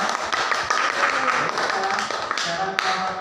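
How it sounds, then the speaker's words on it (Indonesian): Classroom applause from a group of primary-school pupils, a short burst of quick, uneven hand claps close by, with a few voices talking over the end. "Beri tepuk tangan semuanya"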